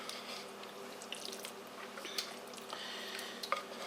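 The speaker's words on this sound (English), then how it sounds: "I'm just going to pour all this in there." A thick corn and green bean casserole mixture is poured from a bowl into a sprayed baking dish, giving soft wet squishes and drips with a faint scrape near the end, close and quiet, without talk.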